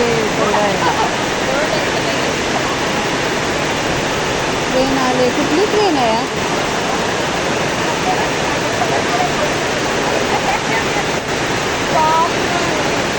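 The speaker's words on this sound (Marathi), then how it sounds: "खूप मुसळधार पाऊस चालला आहे" Heavy monsoon rain pours down in Mumbai, a steady, dense roar that fills the whole stretch without letting up, while people talk over it.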